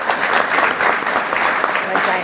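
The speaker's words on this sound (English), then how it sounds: "Maybe a round of applause for them." A breakfast audience at a Chamber of Commerce event claps warmly for the organising team, a loud, continuous round of applause close by with no pauses.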